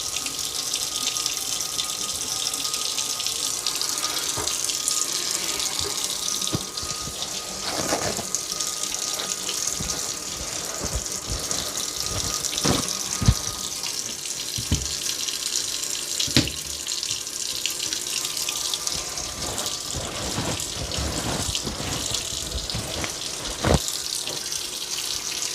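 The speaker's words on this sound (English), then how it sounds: "Fill up the sinks, and then we will drain them out." Tap water pours steadily into sinks that are slowly filling during a drain-unclogging job, a constant loud gushing splash with occasional clinks and knocks, and no one speaking.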